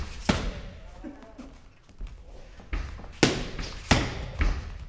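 Several sharp, solid impacts of backfist strikes landing on pads, close and punchy, spaced irregularly over a low background hum.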